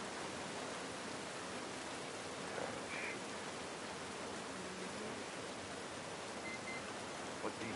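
Steady rain falls in The Last of Us Part 1 video game, a dense, even hiss of drops that holds at the same level throughout with no voices over it.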